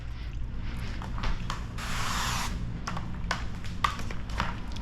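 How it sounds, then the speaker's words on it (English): Squeegee pushing and rubbing paint protection film onto the front bumper of a 1988 BMW M3 E30, a steady close scraping and rubbing with a longer hissing spray burst midway over a low constant hum. "grab our black squeegee, and we'll go ahead and start pushing this down"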